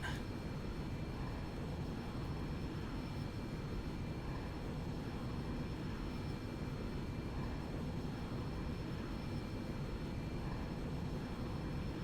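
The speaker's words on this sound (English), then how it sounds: "Start engine number 1." Boeing 727-100 jet engine starting up in the X-Plane 10 flight simulator: a steady, broadband rumbling roar with a faint high whine, continuous and even throughout, with no talking.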